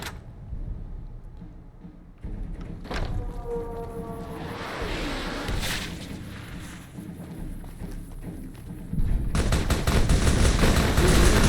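A worn-out minigun in Fallout: New Vegas firing in sustained bursts, dense rapid gunfire that swells louder toward the end over a rumbling game soundscape, with scattered impacts and thuds.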